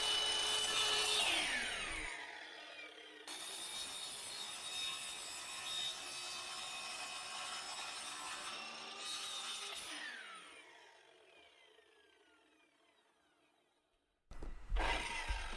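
A miter saw cuts wood for a post cutout while a storage shed floor and post are being built, with long loud grinding passes, a pause, another pass, then a sharp clatter at the end.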